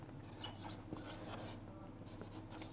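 Math equations written out by hand in matrix form, as a quiet, continuous scratch of pen or pencil on paper with small strokes and taps, close by and without speech.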